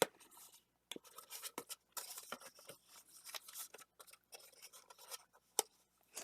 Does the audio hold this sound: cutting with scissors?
yes